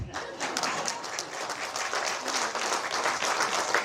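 An audience at a Tamil film's music launch event breaks into sustained, dense applause, a loud, even wash of clapping from many hands throughout.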